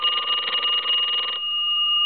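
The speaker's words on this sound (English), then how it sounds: "I'm going to give it a couple more rings since that's what we were having a problem with." Bell of a Deco Tel chest telephone under repair rings loudly in a steady electric trill for over a second, then stops, leaving a faint lingering tone.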